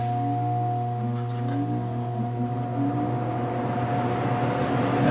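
The blower motor of a workshop air filter runs with a steady close hum and a constant tonal whine, holding even throughout with faint rattling underneath.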